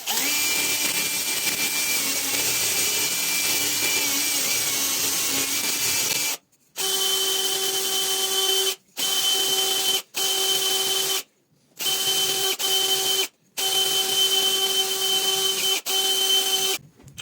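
Power drill spinning a SunFlex abrasive brush at first speed on a part with chamfers, a steady loud whir that stops and restarts in several short bursts, no talk.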